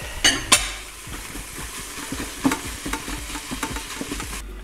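Minced meat frying crumbly in a Cook4me pot, a light sizzle under repeated scraping stirs and a couple of sharp clinks of the utensil against the pot.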